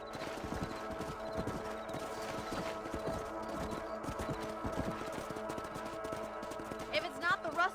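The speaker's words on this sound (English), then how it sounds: "Let's get back on the horses and see what else is going on." Horse hooves clip-clop in a steady, even rhythm in the Red Dead Redemption video game, fairly faint and continuous amid other game ambience.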